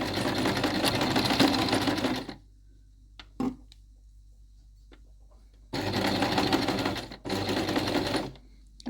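A sewing machine stitches thick coat fabric for a welt pocket in two loud, rapid mechanical bursts separated by a quiet pause holding a few soft clicks and handling taps.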